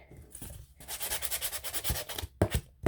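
Coarse sandpaper scraped back and forth by hand on a craft-room sign, a steady run of gritty rubbing strokes close to the mic, with a short pause and a few sharper final scrapes.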